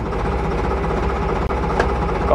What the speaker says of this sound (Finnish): Tyhjäkäynnillä putputellaan menemään.